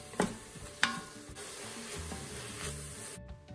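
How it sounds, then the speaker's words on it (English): Onions and jalapenos sauté in an Instant Pot with a soft, steady sizzle, and a few sharp stirring scrapes near the start. There is no talking, and the sound cuts out abruptly just before the end. "start sauteing my onions and jalapenos until translucent and a little bit brown"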